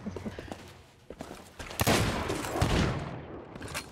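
Gunfire in the pirate video game Sea of Thieves, a burst of several loud shots and a sustained rattling volley in the middle, with scattered quieter clicks and thumps around it.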